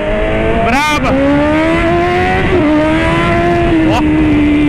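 A BMW S1000 motorcycle engine pulls hard and loud up close, revving rise after rise as it accelerates, with a steady high engine whine continuing throughout.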